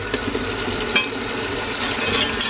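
Liver hits a hot pan and is stirred, a soft sizzle running under scraping and stirring, with a few sharper clicks of a utensil against the pan.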